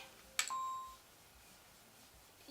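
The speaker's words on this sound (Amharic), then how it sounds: "የአንቺ ስልክ ነው የሚጠራው?" A single short electronic ringtone chime sounds once, faint, then fades into quiet room tone.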